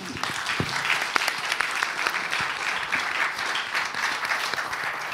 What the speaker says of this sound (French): On peut applaudir Garance Lhomme.